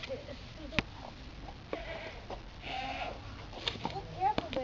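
Goat bleating in a park's farm animal area, a few short calls mixed with nearby voices and clatter, with people talking over much of it.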